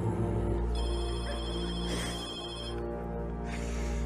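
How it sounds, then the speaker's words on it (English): An indoor telephone rings with a steady tonal ring that holds across the few seconds, set against a dense, humming harmonic background and no talking. "Phone is ringing"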